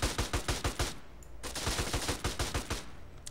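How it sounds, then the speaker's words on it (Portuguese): Rapid bursts of gunfire from a firefight in the video game GTA San Andreas, with dense repeated shots up close, a brief lull, then another fast volley. "Parece que os tiros empurram a porta."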